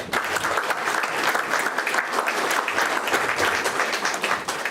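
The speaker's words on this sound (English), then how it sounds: "a big round of applause for that" Steady, dense audience applause fills a comedy show, loud and continuous throughout, with a murmur of crowd noise underneath.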